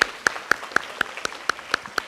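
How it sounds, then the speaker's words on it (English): At a school awards ceremony, a single pair of hands claps in an even, steady rhythm, about four crisp claps per second, close and distinct against a quiet room. "I think that deserves a round of applause."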